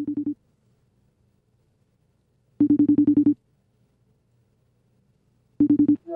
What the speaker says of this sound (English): I need to make a phone call real quick.